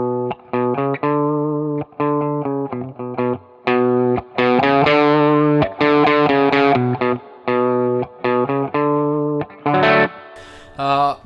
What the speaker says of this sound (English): if I play the same riff a bit more mellow on my pick, it will sound something like that